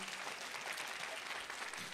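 Audience at a stand-up comedy show breaking into steady applause, a dense even patter of many hands clapping, fairly faint and with no voices over it.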